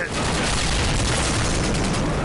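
Dense, continuous automatic gunfire and explosions fill a Call of Duty Modern Warfare 2 multiplayer match, loud and unbroken for the whole stretch with no pauses.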